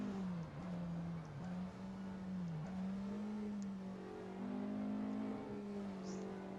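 A Porsche Le Mans race car in a racing video game holds a steady, loud engine drone, with brief dips around gear changes and the pitch wavering slightly as it runs at speed.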